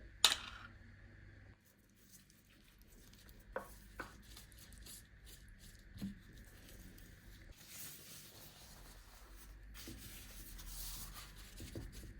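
Pastry brush rubbing oil across thin baklava sheets layered in a baking tray, soft repeated swishing strokes close up, quiet and steady with occasional light taps.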